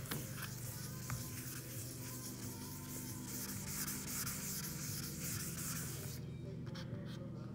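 Wet sanding car paint with 600 grit wet sandpaper on a 1959 Chevrolet El Camino, a steady hissing, rubbing scrub that continues evenly, then drops away near the end, close up against a low background hum.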